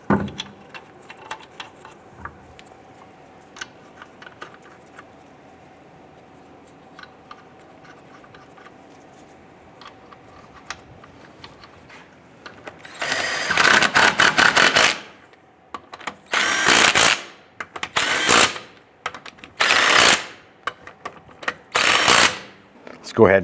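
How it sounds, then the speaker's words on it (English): Lug nuts are spun on by hand and then run down with a ratcheting tool on a 2005-2010 Chrysler 300 wheel, with quiet handling first and then several loud bursts of rapid ratchet clicking. "I'm going to go ahead and get all of our lug nuts started by hand. Once we get these on, we'll snug them down."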